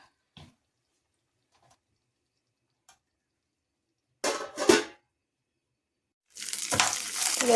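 Food frying in a pan during home cooking, two bursts of crackling sizzle, a short one midway and a louder sustained one at the end, after near silence with a few faint ticks.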